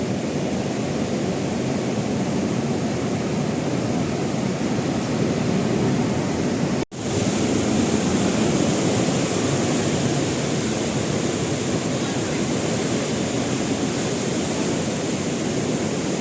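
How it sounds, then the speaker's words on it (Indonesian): Continuous roar of surf breaking on the shore at Tebing Manula beach, broad and steady throughout with one momentary dropout. "Ini keindahan pantai Tebing Manula."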